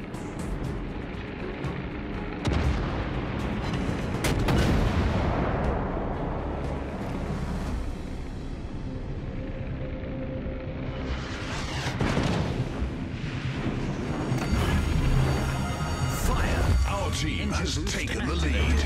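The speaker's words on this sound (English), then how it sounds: "Concentrate fire on that enemy warship." Naval gunfire from warships in World of Warships: Legends, with heavy booming blasts and rumbling across a dense battle soundscape, several strong surges near the start, middle and end, under radio-style voice callouts.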